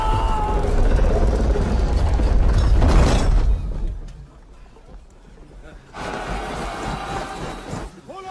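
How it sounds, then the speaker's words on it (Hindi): Cannon muzzles are cranked upward with a loud grinding, ratcheting gear mechanism in a battle scene from a Hindi film about Prithviraj Chauhan, heavy for four seconds, a quieter lull, then resuming. "तोपों का मुंह दो इकाई ऊपर।"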